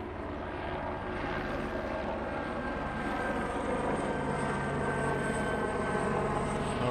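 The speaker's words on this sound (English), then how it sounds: "Oh no, it's a helicopter." A helicopter flying over Miami Beach, a steady, moderately distant rotor and engine drone that holds at an even level throughout without a break.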